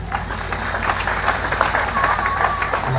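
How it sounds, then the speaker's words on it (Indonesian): Applause from a large outdoor crowd at an Islamic religious lecture gathering in a field, steady dense clapping with a constant low hum underneath and some voices mixed in. "Tepuk tangan untuk panitia."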